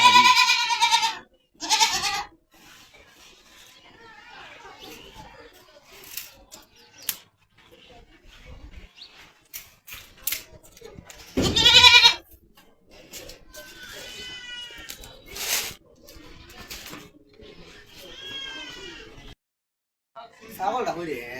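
A goat bleats in several wavering, high calls spread across the scene, some near and loud, others fainter. Someone shouts and talks between the bleats in a noisy outdoor setting.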